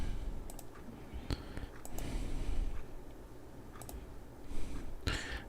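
Scattered keyboard clicks sound in small bursts while someone types during a coin roll search for a 1951-D plastic-tubed roll, light and fairly close, with a quiet room hum beneath and no talking.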